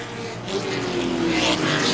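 Late model stock cars race in a feature event at Baer Field Speedway, a steady loud roar of several engines that swells as the pack passes close by, with no talk.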